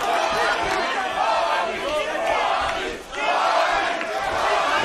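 A crowd at a Cage Warriors MMA fight roars and shouts in a dense, sustained wave, loud and continuous, with a brief dip before surging again.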